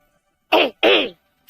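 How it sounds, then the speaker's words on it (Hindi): Two loud, close throat-clearing bursts from a man, each a harsh rasp lasting about a quarter second, separated by a short pause, with a brief vocal sound starting at the very end. "हां तो वो गला साफ करा था"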